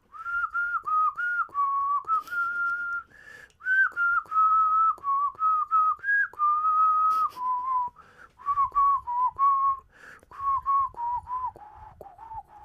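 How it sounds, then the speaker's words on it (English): A man whistles a melody in short, wavering phrases with small pauses between them, fairly quiet and close, with a few faint background knocks and no talk. "He's been whistling this all week."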